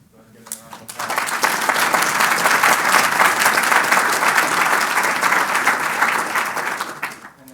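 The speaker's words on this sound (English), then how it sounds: "Go ahead and give it a round of applause." A conference audience at a standard-setting session gives a round of applause, swelling quickly into dense, loud clapping that holds steady for several seconds and then fades, with brief speech at the edges.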